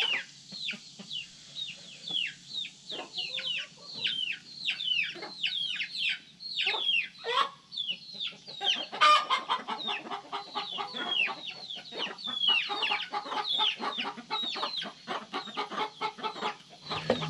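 Several hens cluck and squawk continuously at close range around their coop, a busy overlapping chorus of short calls with brief louder bursts.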